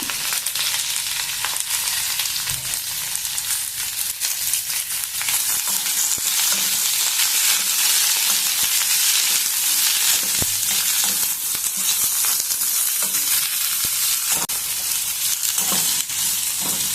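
Onions sizzling in a pan for potato curry, a loud continuous frying hiss with occasional stirring scrapes, steady from start to finish with no talking.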